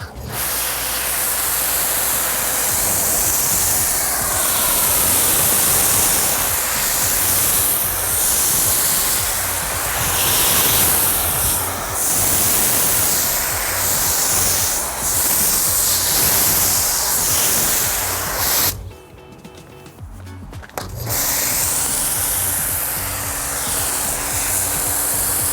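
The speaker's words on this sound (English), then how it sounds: "We'll spray it off, and then we'll come back and foam and do a contact wash" Pressure-washer water spraying steadily off a foamed car during a wash, a loud continuous broadband hiss that runs almost unbroken, with a brief pause near the end before the spray resumes.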